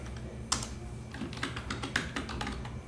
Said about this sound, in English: we will start typing the text